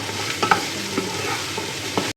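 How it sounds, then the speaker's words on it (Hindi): Capsicum frying in ginger garlic paste in a pan, with a soft steady sizzle and a few spatula scrapes and taps on top, close by and with no talking. "इसमें हम लोग शिमला मिर्च डाल देंगे और इसको थोड़ा सा फ्राई कर लेंगे।"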